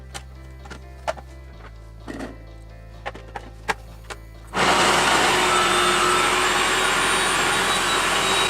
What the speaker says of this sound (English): I already have my garlic and ginger that I have peeled and I want to put in the food processor